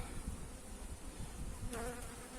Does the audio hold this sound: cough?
no